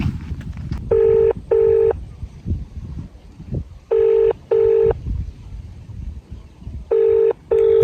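Phone dialing tones repeat in three pairs of steady electronic beeps, loud and clear against a quiet indoor room with faint low background noise.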